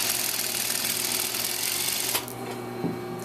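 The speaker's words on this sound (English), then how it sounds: "Stitch it at a 1/2 inch seam allowance." A sewing machine runs loud and close while stitching a welt pocket seam at a half-inch allowance, then abruptly slows and drops to a quieter hum before a brief clunk.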